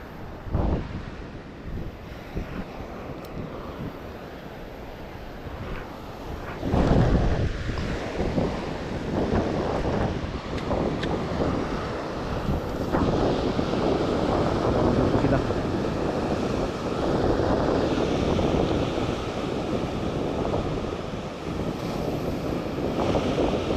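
Wind gusts roar across the microphone at the seaside while fishing from shore, with waves washing in beneath; the buffeting swells and stays loud throughout, and someone speaks now and then.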